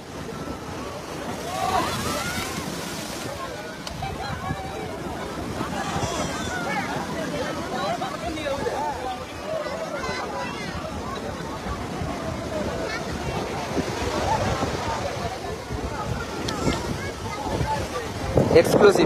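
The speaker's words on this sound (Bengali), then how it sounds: "আবারও মাঝে মধ্যে একটা দমকা বিশাল বড় বড় ঢেউ দিচ্ছে" Big sea waves surge and crash at Old Digha beach after a full-moon tidal swell, a continuous roar of surf mixed with gusting wind noise on the microphone, with occasional louder bursts as larger waves break.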